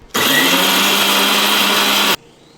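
A mixer grinder whirs loudly in a small jar grinding ingredients such as coconut and gram for fenugreek chutney, a steady high whine for about two seconds that cuts off abruptly.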